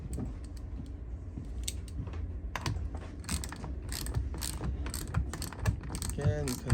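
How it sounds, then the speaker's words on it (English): A ratchet tightening a nut onto a motor screw clicks in quick, uneven bursts of sharp pawl ticks, close up over a low background hum, with a faint voice in the background. "you can do one full loop and ratchet just at the end"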